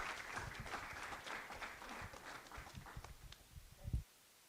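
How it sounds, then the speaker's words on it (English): Audience applause for softball coach Carol Hutchins at a talk, a dense patter of clapping that stays moderately loud, thins toward the end and breaks off with a final thump. "can I get a huge round of applause for Coach Carol Hutchins?"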